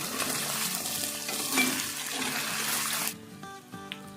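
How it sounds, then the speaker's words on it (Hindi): Beef frying in a pan with ginger and garlic gives a loud, steady sizzle for about three seconds, then cuts off abruptly, leaving quieter sounds behind. "और अब तकरीबन 2 से 3 मिनट के लिए और फ्राई करेंगे।"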